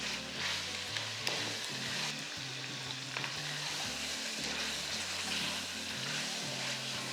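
Ginger and garlic sautéing over a high flame for Lucknowi chicken biryani, a steady close sizzle and crackle of frying with occasional stirring clinks, continuous and loud with no talking.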